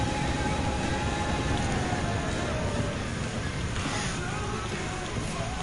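A turbocharged hybrid race car in Gran Turismo 7 runs flat out, giving a steady, loud broadband roar with a faint engine whine that slowly drops in pitch and no breaks.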